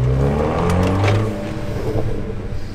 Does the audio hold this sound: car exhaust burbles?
yes